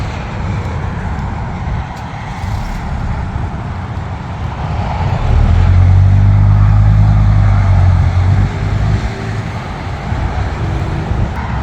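A camper van drives along a road with steady low rumbling road and wind noise that swells louder midway, with no talk.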